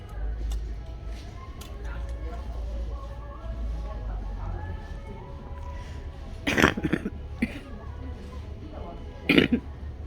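Two short, sharp coughs a few seconds apart break a fairly quiet background with faint low rumble and small clicks.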